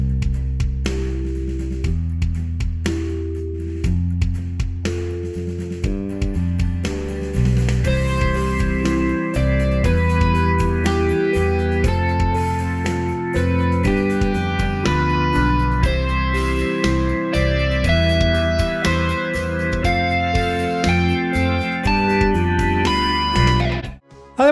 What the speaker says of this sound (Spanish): Y ahora voy a ubicar a la guitarra eléctrica en una posición